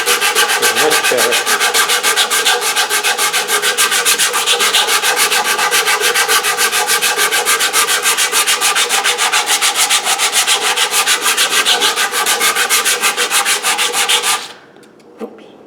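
A carved wooden guitar neck is sanded by hand with 80 grit sandpaper, giving fast, even, rhythmic scratching strokes close up for about fourteen seconds before stopping abruptly.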